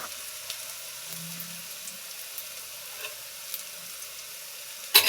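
Raw banana kofta balls fry in oil with a soft, steady sizzle and a few small pops, fairly quiet and close, ending in a sudden louder clatter.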